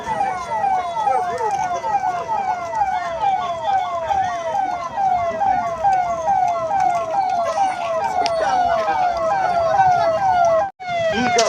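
A fire brigade vehicle's siren sounds during a mock rescue drill held by police and district officials in Chikkaballapur, a loud, continuous rapid wail sweeping up and down over and over with no break for the whole stretch.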